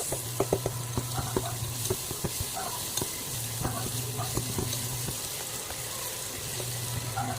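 Tomatoes sizzle in a hot pan while a spoon stirs and knocks against it, giving a steady frying hiss with scattered clinks and scrapes throughout.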